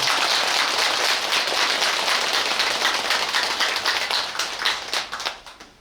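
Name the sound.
audience applause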